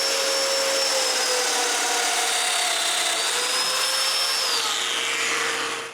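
Power tool cutting mortises in wood for a bathroom vanity, a loud, steady high whine with shifting pitch that runs continuously close by, then stops abruptly at the end.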